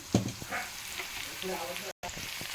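Curry leaves and ginger paste sizzle in hot oil, a soft continuous frying hiss with small pops and a brief stir, heard close and fairly quiet.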